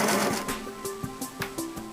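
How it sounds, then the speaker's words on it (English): A Singer sewing machine stitches a buttonhole in fabric, a quick run of rhythmic mechanical needle strokes heard up close with no one talking. "Make at least 4 stitches ending on the left side when you're going to go up the buttonhole."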